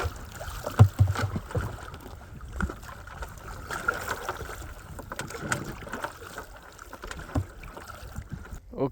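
A kayak being paddled on Lake Vänern in Sweden, soft paddle splashes and water lapping against the hull at a slow irregular pace, close but quiet, with light wind noise over the microphone.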